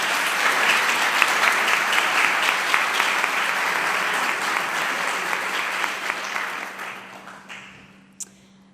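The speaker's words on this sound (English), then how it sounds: "We could maybe give him a round of applause so when he sees the video." Audience at a school graduation claps in a steady, dense burst of applause that gradually fades out over several seconds, followed by a brief knock.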